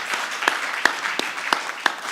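Scattered hand claps from a conference audience, a few sharp individual claps over a low crowd murmur rather than full sustained applause, moderately loud and fairly close.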